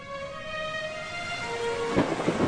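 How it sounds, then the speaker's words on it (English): A thunderstorm sound effect standing in for a powerful hurricane striking Washington during the War of 1812: steady heavy rain and wind, then a loud crack and rumble of thunder near the end. "Lightning splits clouds open as gale-force winds tear through the city."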